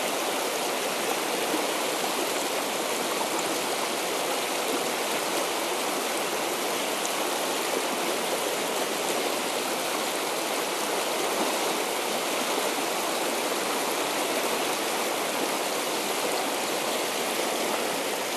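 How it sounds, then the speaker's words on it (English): The Middle Branch river flows steadily as a dense, continuous wash of rushing water, close and even in loudness throughout, with no voices. "It's real interesting to see this river at this level at this time of the year."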